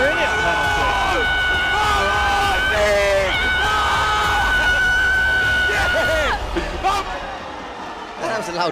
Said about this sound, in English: That was a loud, piercing scream in the ear, wasn't it?